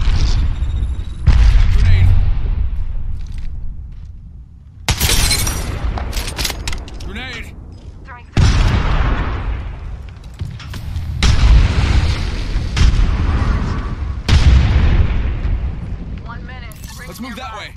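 Grenade blasts and bursts of gunfire in the battle-royale shooter Apex Legends, with several loud booming explosions and crackling shots arriving in separate waves, while a player's voice talks over the action.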